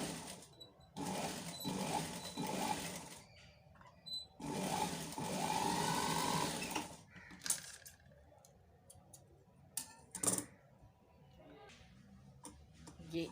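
A sewing machine stitches pintucked sleeves in bursts of steady, close mechanical whirring, with quieter ticking and clicking between runs and a voice talking intermittently.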